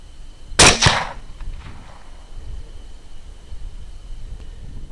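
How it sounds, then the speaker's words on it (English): A single loud, sharp rifle shot fired at a large boar during a night thermal hunt outdoors, close and abrupt, with a short echo trailing off into quiet background hiss. "he turns around, and that gives me an opportunity to take my shot"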